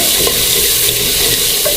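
Masala frying in a pan for tinda sabzi as a small splash of water is sprinkled in, giving a loud, steady sizzle with watery hiss and no voices.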